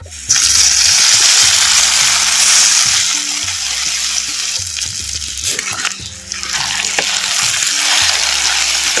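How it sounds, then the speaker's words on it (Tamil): Bitter gourd pieces marinated in masala sizzle and crackle loudly in hot oil with fried shallots and curry leaves, a steady close frying hiss with stirring scrapes throughout, no talking. "ஒரு மணி நேரம் மசாலாவில் ஊற வச்ச பாவக்காயை இப்போ சேர்த்துக்கிறோம்"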